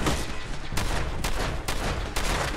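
Rapid bursts of pistol gunfire in the video game Fallout 4, four or five loud, close reports in quick succession over dense combat noise, with no speech.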